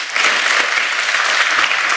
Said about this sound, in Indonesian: Kita kasih tepuk tangan saudaraku.